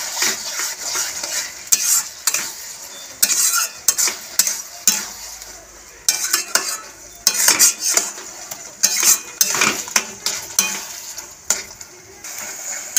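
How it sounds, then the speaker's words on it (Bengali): A spoon scrapes and clatters rhythmically in a pan as tomato-date chutney is stirred with sugar, with a soft sizzle under the repeated strokes, near and fairly loud, with no talk. "চিনিটা দিয়েও ফের নাড়াতে থাকবো"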